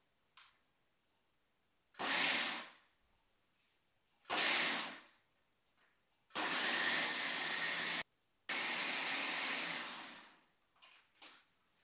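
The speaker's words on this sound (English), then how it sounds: "So we'll give it a turn this on and just blend." A blender whizzes a raw chocolate and orange mixture in repeated bursts: two short pulses, then two longer runs with a brief gap between them, and quiet pauses in between.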